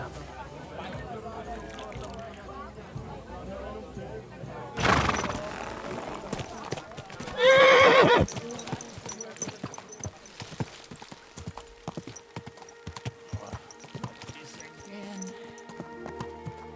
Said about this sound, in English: This horse must have cost a pretty groschen.